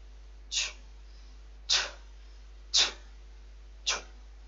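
An anime character sneezes four times, short sharp bursts about a second apart, clear and close over a quiet low hum.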